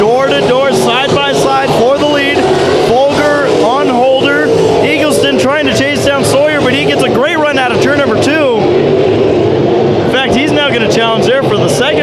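Modified race cars roar around Bakersfield Speedway during a heat race, their engines a constant loud rumble beneath excited, continuous commentary from an announcer.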